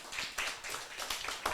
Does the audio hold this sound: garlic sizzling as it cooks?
no